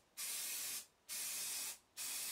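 Spray gun laying primer coats onto Moto Guzzi Le Mans 3 cafe racer motorcycle parts, three steady hissing bursts separated by short pauses, close and loud with no talking.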